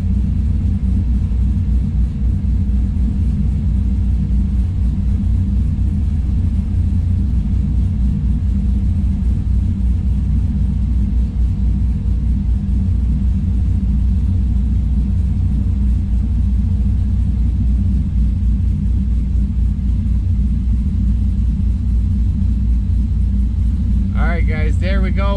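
An LS V8 engine with Fitech fuel injection idles steadily, a loud continuous low rumble throughout with a brief higher mechanical whine near the end.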